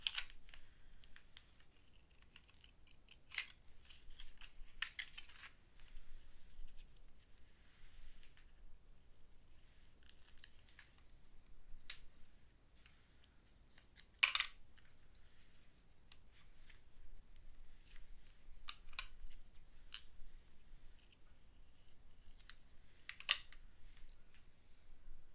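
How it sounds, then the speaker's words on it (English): Paper being fussy cut with scissors for card making, faint intermittent snips and small clicks spread irregularly across a quiet room, with no talking. "In the crafting world, we call this fussy cutting."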